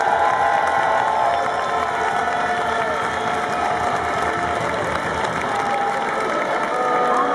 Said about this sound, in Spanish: Un aplauso muy grande para todos los aficionados que han viajado.